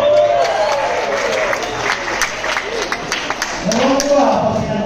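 A church congregation claps together at a first anniversary service, steady and continuous applause from a crowd, with voices and cheers mixed in throughout.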